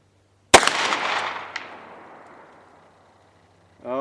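A single sharp, loud report from a Hi-Point 10mm carbine fired at a small target, its echo trailing off over a couple of seconds, followed by a brief faint sound near the end.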